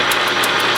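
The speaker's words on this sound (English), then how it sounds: "Turn the lathe on" An old Logan lathe runs with a steady mechanical hum and rhythmic whirring pulses, loud and close in a short burst with no talk.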